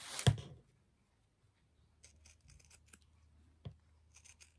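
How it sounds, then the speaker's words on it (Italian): Close snips of pinking shears cutting faux leather, a loud crunch at the start, then soft repeated cutting sounds with a sharp snip near the end, in an otherwise quiet room. "con le forbici a zig zag vi consiglio di farla alla fine come sto facendo io"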